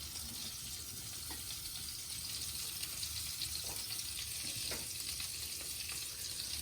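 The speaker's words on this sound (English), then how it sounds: "we have also added some butter, the one we showed you before, and we're allowing this to melt" Butter melting in a frying pan beside boiled potatoes, giving a soft continuous sizzle with a few faint clicks and scrapes, quiet and steady throughout, no talking.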